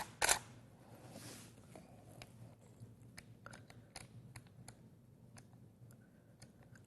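A camera shutter firing during a portrait shoot at high shutter speed, a loud click near the start followed by a series of faint, sharp, irregular clicks.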